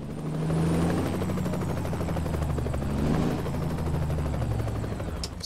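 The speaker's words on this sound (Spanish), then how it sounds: "Y ese helicóptero haciendo bulla, qué gringo." A helicopter in American Truck Simulator drones steadily with a low rotor hum and engine whine throughout, loud and continuous, with a faint tone sweep passing overhead and no talk.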